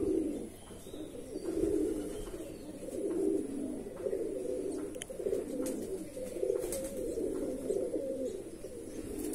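Mundi Sada Andhra pigeons cooing, a near, continuous run of low throaty coos rising and falling in repeated phrases, with a few faint clicks and no speech.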